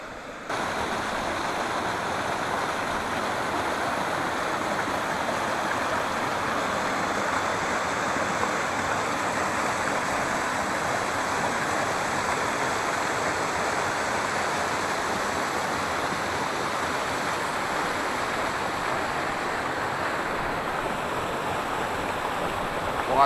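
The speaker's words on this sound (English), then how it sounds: "Look at all that water." Steady rushing water flows through a canyon stream in October, a continuous broadband roar close by with no talk over it.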